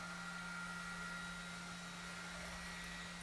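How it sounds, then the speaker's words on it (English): Cooling fan of a DJI Mavic Pro drone whirring steadily after landing, a constant close hum with a strong low drone tone and broad airy hiss throughout, with no talking. "You can hear the fan going."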